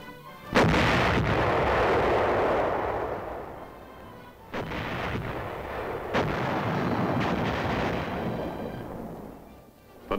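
A new army artillery weapon fires in the field, several heavy booming blasts spaced seconds apart, each followed by long rumbling echo and roar, loud and without speech.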